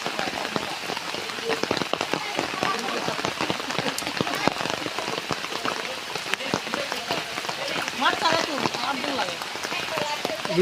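Rain falls steadily on a flooded village courtyard during fishing with a fine net, a dense continuous patter of drops close by with scattered sharper splashes throughout.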